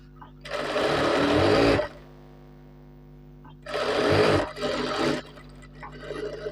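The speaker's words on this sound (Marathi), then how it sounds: "याच्यावर शिलाई तिथं पक्क करून घ्यायचं" Sewing machine stitching a shirt in a tailor's workshop, running in two loud bursts of steady whirring with a short pause between them and a brief stop near the end.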